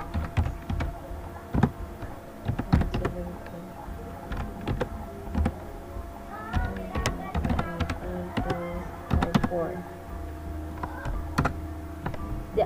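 Keys clatter on a computer keyboard as a network command is entered: irregular bursts of close, light taps with short pauses, quiet and alone.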